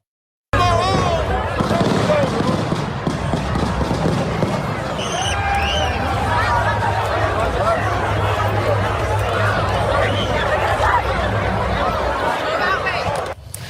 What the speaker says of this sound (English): TMZ video capturing the moment gunfire erupted